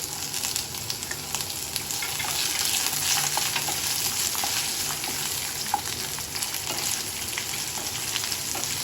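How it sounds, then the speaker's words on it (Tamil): Whole garlic cloves and chillies sauté in a pan, a dense close sizzle with scattered pops and the scrape of stirring running steadily throughout, no talking. "நல்லா பூண்டும் மிளகாவும் நல்லா வதக்கிக்கலாம்"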